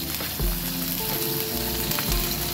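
Chicken filling with red chili powder and garam masala frying in a pan over low heat, a dense, continuous close sizzle with light stirring noises.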